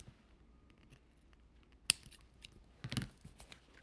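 Scissors cutting off excess duct tape from a doll's handmade visor, one crisp snip followed by a short crunchy cut, close and fairly quiet.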